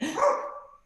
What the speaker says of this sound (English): She's barking at the basketball score.